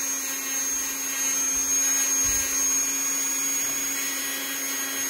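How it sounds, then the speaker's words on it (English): A brand-new Dremel rotary tool running at high speed on a polymer clay pendant, giving a steady, continuous high-pitched whine with a constant tone throughout and no talk. "I might even slow my machine down a little bit. This is a brand new Dremel, so it gets pretty high torque."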